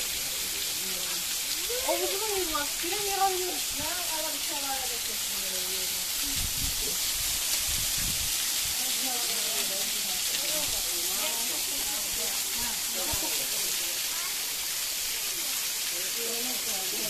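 The Təkdam waterfall gives off a steady, loud rushing roar of falling water that never lets up, while several people's voices talk over it throughout.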